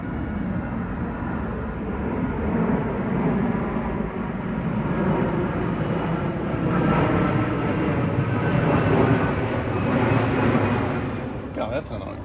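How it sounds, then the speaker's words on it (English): A jet airplane passes overhead above a camper van, giving a broad, steady roar that swells and fades over about twelve seconds. A person talks over it. "God, another plane? Seriously?"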